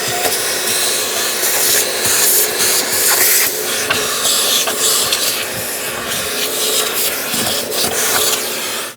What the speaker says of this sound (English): Using a vacuum, we're going to suck up any dirt or debris that's sitting on top or around